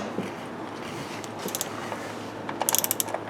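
Ratchet wrench snugging down a bolt while installing a Sniper EFI fuel injection unit in place of a carburetor, heard as a quick burst of sharp clicking pawl strokes near the end, close and clear over a quiet background.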